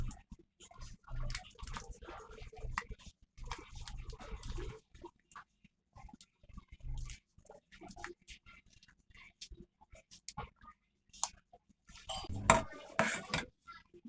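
Utensil clinks and scraping come in bursts as a spoon or whisk beats tomato omelette batter in a bowl to break up the lumps, with short pauses between strokes and a louder clatter near the end.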